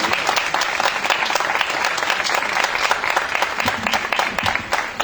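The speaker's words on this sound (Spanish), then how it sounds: "un fuerte aplauso para él" Sustained applause from a seated audience at a talk on spells and mysteries, a dense steady wash of clapping lasting throughout with no voices on top.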